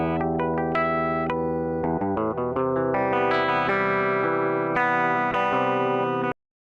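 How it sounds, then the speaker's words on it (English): A plain monophonic electric guitar with only a compressor plays a run of picked single notes, clean and close, each note ringing into the next before stopping abruptly. "this is a very ordinary monophonic guitar"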